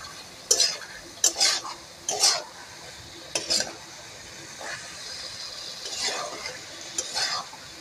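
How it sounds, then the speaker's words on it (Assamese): Meat being stirred with a spice mixture in a pan, in a home kitchen making an Assamese meat dish: several distinct scraping, clattering strokes with soft sizzling between them, close and moderately loud, with no talking. "ভালদৰে লৰাই দি আছে, মছলাটো মাংসৰ লগত মিক্স কৰি আছে ভালদৰে।"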